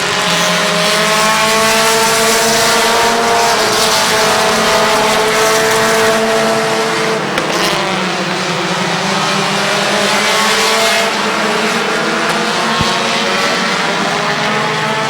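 Race cars circle Midvale Speedway in heavy traffic, several engines droning loudly and steadily at once with rising and falling pitch as they pass, with no gaps in the roar.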